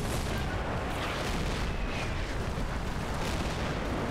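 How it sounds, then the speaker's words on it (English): Artillery shells falling in the Normandy war game Combat Mission: Battle for Normandy, a constant loud rumble of distant blasts and booms that blur into each other. "As the artillery falls around us."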